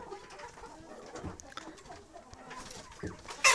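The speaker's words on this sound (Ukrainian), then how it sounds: "так вам вирішив показати, як курочки сидять" Hens settled on their roost at dusk give soft, scattered clucks and low murmurs close by, with a brief louder burst at the end.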